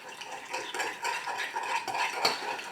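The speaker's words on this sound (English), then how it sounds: "you're going to stir in your flour and stir it until it dissolves" A utensil stirs flour into smothered smoked turkey tails in a pot, making steady close scraping and soft clinking strokes with no voices.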